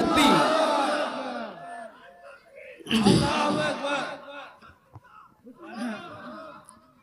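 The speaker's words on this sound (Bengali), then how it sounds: "দুহাত তুলে তাকবীর দিয়ে দেখায় দেই, নারে তাকবীর" Crowd at an Islamic religious sermon (waz) chanting takbir in loud collective bursts, two big swells of massed voices with a quieter third, close and reverberant.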